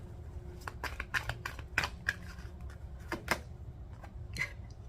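Cards are riffled and snapped in quick, crisp bursts, close and fairly quiet, with short pauses between shuffles.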